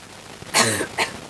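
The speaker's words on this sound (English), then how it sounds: "sorry, I've got an awful cough at the moment." A single harsh cough, followed shortly by a second shorter one, close and loud against a quiet background.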